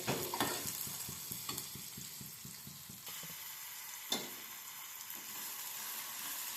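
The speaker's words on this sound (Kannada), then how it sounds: "ಅದಾದಮೇಲೆ ಕರಿಬೇವನ್ನ ಹಾಕ್ಕೋಬೇಕು. ಚೆನ್ನಾಗಿ ಫ್ರೈ ಆಗಲಿ." Curry leaves frying in oil for shavige uppittu: a rapid run of crackling pops and spatters at first, then a quieter steady sizzle with a couple of utensil knocks, close and without talk.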